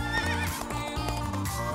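A horse whinnies over continuous music, with a rhythmic clip-clop of hooves mixed into the dense background.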